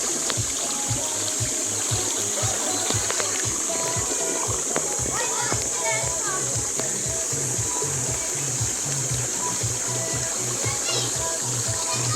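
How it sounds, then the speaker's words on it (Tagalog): Water rushes and splashes steadily, like a flowing river, with children's voices and chatter mixed in over the constant babble, at a riverside campsite in Tanay, Rizal. "Ito ang kanilang ilog."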